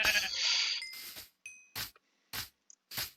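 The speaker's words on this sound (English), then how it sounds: "Let's go slaughter some sheep." Sheep bleating in Minecraft, a drawn-out bleat followed by several short game sound bursts separated by silence, close and clear.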